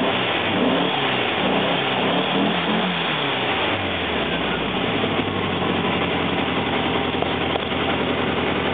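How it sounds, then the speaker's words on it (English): A car engine revs steadily with its muffler opened up, a loud continuous throaty roar close by that rises and holds through the whole stretch with no talking. "As soon as I give it even just the slightest amount of gas, it's pretty much right where it should be."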